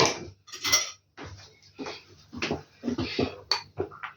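A spoon clinks and scrapes against a plate while stirring gelatin in cold water, irregular taps and scraping strokes close by.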